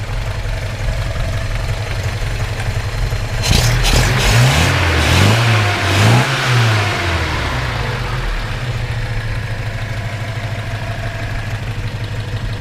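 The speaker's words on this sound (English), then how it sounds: "I'll rev it up one more time here." A 1971 Datsun 510 wagon with an upgraded L20 engine idles steadily, then is revved sharply twice in quick succession before settling back to a smooth, even idle, close and loud with no talking.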